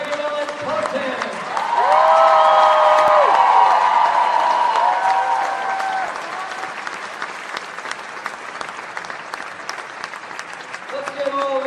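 Sustained crowd applause and cheering for the Carnegie Mellon Spartans college football team, student athletes, coaches and staff, loud and dense, swelling around the announcer's call then settling into steady clapping with a voice over the crowd.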